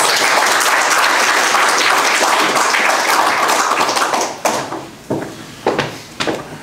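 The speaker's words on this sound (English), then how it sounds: "Please give him a round of applause." Loud crowd applause, a dense wash of clapping that fades after a few seconds into scattered individual claps.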